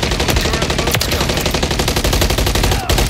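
Rapid automatic gunfire from the Call of Duty MW3 video game, loud and continuous bursts of machine-gun fire with a few sharper single shots mixed in, no talking.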